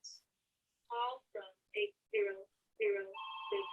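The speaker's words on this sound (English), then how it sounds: "my phone's ringing." A phone rings with a steady two-tone electronic ring near the end, after several bursts of close, clear talking.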